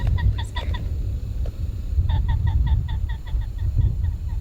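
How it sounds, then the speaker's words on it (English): Hawaiian nene goose giving a run of short, evenly spaced honking calls, close by and fairly loud over steady low outdoor background noise on Maui. "That is the Hawaiian state bird, the nene. It's a goose."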